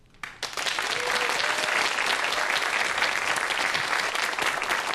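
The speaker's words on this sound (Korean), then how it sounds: "여러분이 방금 박수를 치셨는데요" A lecture audience breaks into sudden loud applause that starts abruptly and holds as a dense, even clapping for several seconds.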